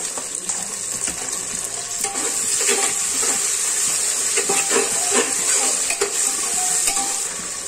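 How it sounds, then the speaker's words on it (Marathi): Chopped tomatoes tossed into fried onions in a hot pan, a loud bright sizzle with repeated scraping and clinks of a spoon stirring, steady and close from start to end. "कांदा झालाय आता तळून, त्याच्यात हे टोमॅटो चिरलेले टाकते"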